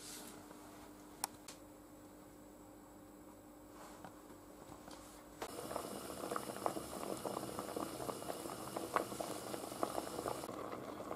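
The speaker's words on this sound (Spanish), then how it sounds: "lo ponemos a hervir" Water with carrots and leeks boils in a pot for a carrot soup, a faint steady bubbling that swells into a louder, busier roiling boil halfway through, alone without talk.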